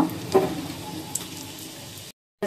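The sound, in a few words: onions frying in oil in a wok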